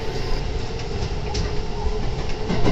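A rapid train runs along the tracks just after departing Shin-Osaka station, a steady close rolling roar with faint rhythmic rail clatter heard from inside the car, no voices.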